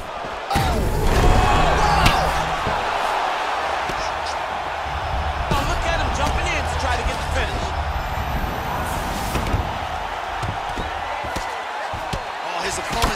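Repeated ground-and-pound punches land in UFC 4, with heavy slams and thuds arriving one after another over a dense, loud crowd-like roar, and talk running beneath.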